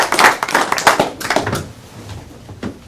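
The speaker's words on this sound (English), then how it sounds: "One more clap." A short burst of hand clapping at a board session, several claps in quick succession that thin out into a few scattered final claps, close and fairly loud.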